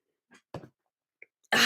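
A person coughs a few times, small throaty hacks and a brief catch of breath, then a harsher, louder cough bursts out at the end, close and unaccompanied by talk.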